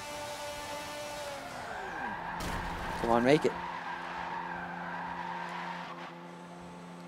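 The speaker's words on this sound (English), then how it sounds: "About to rip the handbrake" Renault F1 car in Forza Motorsport 7 with the handbrake yanked, engine note dropping before a sharp burst of squealing tires mid-clip, then a steady engine drone; someone speaks briefly over it.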